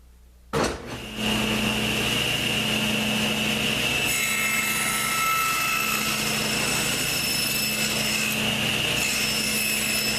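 A saw cuts through wood for a pool cue rack, starting after a brief knock and then running as one loud, continuous grinding whine to the end.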